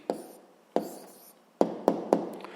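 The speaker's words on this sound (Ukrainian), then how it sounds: "записуємо відповідь, пишемо відповідь" A pen writes an answer by hand on paper in five short, close, scratchy strokes separated by brief pauses, with no talking.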